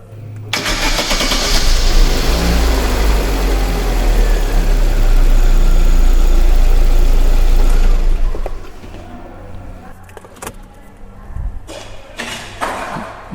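A car engine, just adjusted to a 20 alcohol fuel rate, fires up and runs loud and close for about eight seconds, then cuts off, leaving a few faint clicks and rattles.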